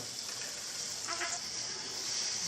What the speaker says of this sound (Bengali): তেলের উপর পেঁয়াজগুলোকে ভাজতে থাকি এবং কিছু তেজপাতা দিয়ে দিলাম কয়েকটা